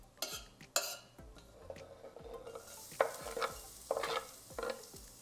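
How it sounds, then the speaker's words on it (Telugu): Cloves, cardamom, cinnamon and bay leaves frying in a pan for chicken stew, a low sizzle broken by several sharp scrapes and clinks of a spoon stirring against the pan, close and irregular. "3 లవంగాలు, 2 యాలకులు, ఒక చిన్న దాల్చిన చెక్క, 2 బిర్యానీ ఆకు వేసుకొని మంచి స్మెల్ వచ్చే వరకు వేయించుకోండి"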